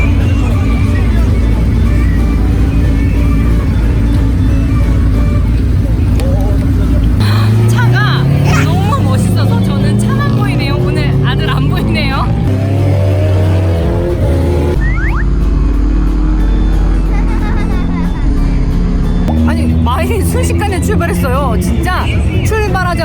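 Open racing car at a racing event accelerating hard during a passenger ride-along, loud throaty exhaust rising and falling through several gear changes, with crowd noise and voices around it.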